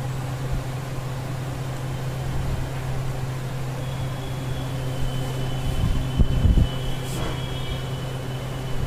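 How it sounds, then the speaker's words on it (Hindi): A Bajaj Desert DC55DLX air cooler runs its fan on the first speed setting, giving a steady close hum and whooshing airflow with a low tonal drone, continuous and without talk. "पहली वाली सेटिंग पे ये कूलर रन कर रही है।"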